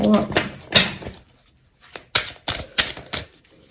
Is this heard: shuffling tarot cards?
yes